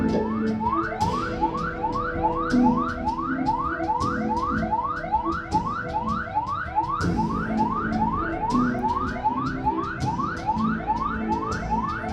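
An ambulance siren sounds as a loud, continuous run of rapid rising sweeps, repeating evenly throughout without pause and with no speech.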